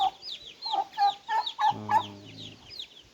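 Newly hatched Brahma chicks, a day or two old, peeping in a rapid series of high, close chirps, with a voice briefly talking underneath near the end.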